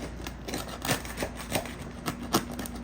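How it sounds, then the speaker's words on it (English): A knife saws through a crispy chicken Caesar sandwich on toasted bread, giving a handful of soft crunchy crackles spread over a few seconds, close and fairly quiet, with no voices. "we're gonna cut into our beautiful sandwich"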